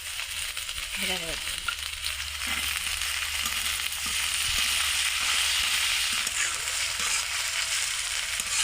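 Steady close sizzle of potatoes frying in hot oil with onion and green chilli, a continuous bright hiss with occasional stir clatter and faint background voice.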